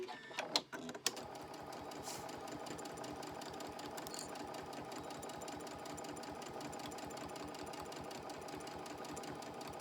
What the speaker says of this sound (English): And I start to sew.